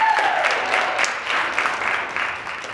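An audience at a live stand-up comedy show claps together in a sustained burst of applause, dense and steady through the whole stretch, with scattered faint crowd voices mixed in.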